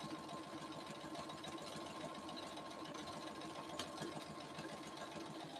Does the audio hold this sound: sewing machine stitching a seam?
yes